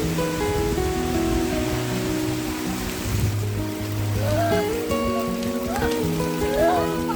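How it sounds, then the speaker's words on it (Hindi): Steady rain falls in Goa, a continuous dense hiss of drops on surfaces that stays even throughout, with faint tonal background sounds underneath. "इस अनएक्सपेक्टेड रेन ने हमारा प्लान होल्ड पे डाल दिया।"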